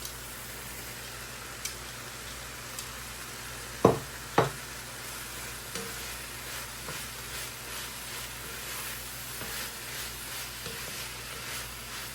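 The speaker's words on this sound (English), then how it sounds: "you want the fish to be toasted up in all the seasoning, just like this" Smoked fish fries in seasoning in a pan with a constant close sizzle, broken by a couple of loud knocks of a utensil and soft repeated scraping as it is stirred.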